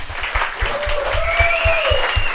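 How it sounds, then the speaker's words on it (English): An audience at a live podcast recording in Dublin gives a round of applause, a steady clatter of many hands with a rhythmic low thumping and a sustained tone running through it. "can you please give a round of applause for Ross?"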